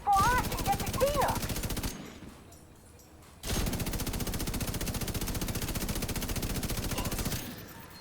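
Sustained rapid automatic fire from an assault rifle and an LMG in the video game The Division 2, with two long loud bursts separated by a brief quieter gap and a short shout early on.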